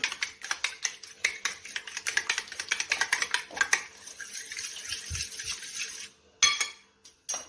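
Beaten eggs with chili powder, black pepper and salt are stirred briskly in a bowl with a metal utensil, giving a fast rhythmic run of close clinks and taps for about four seconds, then softer scraping and a few last knocks.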